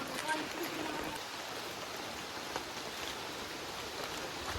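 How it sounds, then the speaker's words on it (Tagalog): A steady wash of rain hisses without pause, soft and somewhat distant, with faint murmuring voices underneath. "Walang tigil ang ulan."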